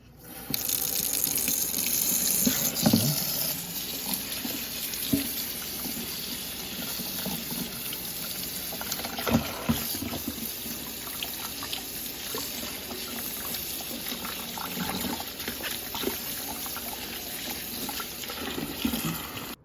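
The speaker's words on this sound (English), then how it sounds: "We're gonna run that under some cold water, okay?" Cold tap water runs steadily over leeks being rinsed in a sink, a close, continuous gushing stream with occasional splashes and handling knocks, no talk.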